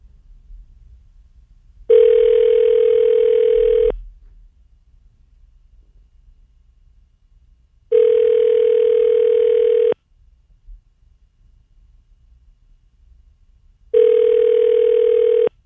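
A telephone ringback tone while calling someone, three long steady two-second rings separated by four-second silences, clear and loud.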